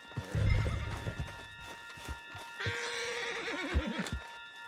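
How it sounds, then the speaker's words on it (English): A horse in the Red Dead Redemption 2 video game gives a loud, close whinny with rising and falling pitch, preceded by clip-clopping hooves and bursts of in-game activity. "Put Strauss on the back of John's horse, and let's get out of here"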